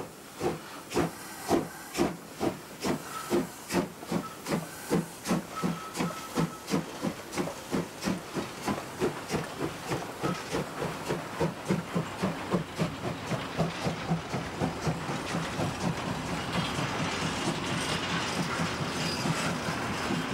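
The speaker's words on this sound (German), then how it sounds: "Lange fahren auf der Unstrutbahn Dampflokomotiven." Steam locomotive 52 80 39 working a freight train on the Unstrutbahn near the Karsdorf cement works, chuffing loudly in a steady rhythmic beat that quickens and blurs into continuous hissing steam and clatter as it passes close by.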